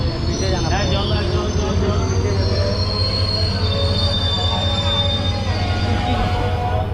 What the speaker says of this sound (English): हम लोग का ट्रेन आ गया